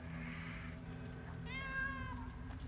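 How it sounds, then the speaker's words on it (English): A cat meows twice in a short clip, the second call longer and rising, fairly close and clear over a low steady hum. "That's a cat."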